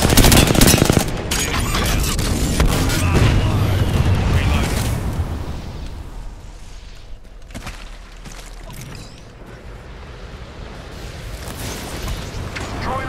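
Kraber sniper rifle fire in an online shooter game, heavy booming shots mixed with other gunfire and explosions, loud at first and then thinning into scattered bursts.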